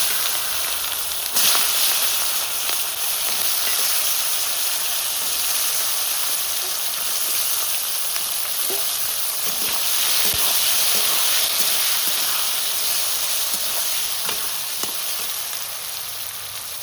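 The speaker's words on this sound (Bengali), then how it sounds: "এবার বাঁধাকপি রান্না করব, দিয়ে দিচ্ছি জিরে ফোড়ন আর আলুগুলো আগে দিয়ে দেবো।" Cumin seeds and potato pieces fry in hot oil for a cabbage dish, giving a steady dense sizzle and hiss with occasional faint stirring clicks close by, with no talking.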